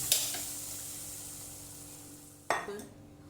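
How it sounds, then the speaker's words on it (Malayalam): Tempering spices dropped into hot oil for a lentil and jackfruit-seed curry crackle in two sharp bursts, one at the start and one midway, each fading into a soft sizzle, close by. "ഇതിലേക്കൊന്ന് വറവിടണം."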